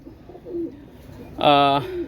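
A pigeon gives a short, clear coo rising above quiet background, preceded by softer murmuring sounds.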